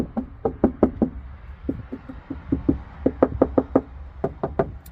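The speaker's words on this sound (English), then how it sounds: "if I knock like on this side here" Knuckles knocking on a car door panel fitted with sound deadening backing, producing clusters of sharp, dull raps in quick groups of two to four, close and fairly loud against a quiet background.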